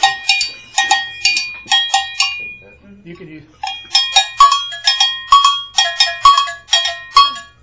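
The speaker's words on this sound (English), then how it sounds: "just so everybody can get a chance to play the bell pattern" A handheld cowbell struck with a stick plays a repeating conga bell pattern, loud and close with sharp metallic hits in steady groups, pausing briefly midway while a voice says a few words.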